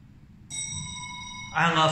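A Hitachi keycard-operated hotel elevator chime rings once with a clear, sustained bell tone, followed by a louder noisy burst at the end.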